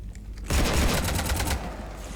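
Gunfire in Mass Effect 3 Legendary Edition, Citadel DLC: a loud, sustained burst of rapid automatic shots lasting about a second, then dropping back to a steady background rumble, with no talking.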